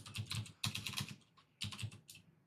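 Rapid typing of Python code on a computer keyboard, three quick bursts of close, crisp keystrokes separated by brief pauses.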